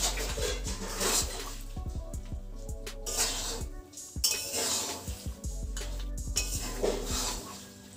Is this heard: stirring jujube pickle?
yes